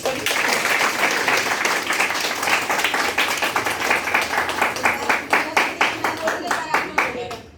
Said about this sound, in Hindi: अभी जोरदार बजाओ ताली।